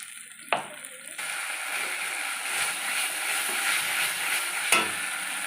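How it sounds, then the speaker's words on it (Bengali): A spoonful of ginger paste fries in hot oil in a pan, a steady close sizzle with two brief sharp knocks of utensils, no voices. "এবারে দিয়ে দেবো 1 চামচ আদা বাটা। এটা একটু ভাজা ভাজা করে নেব।"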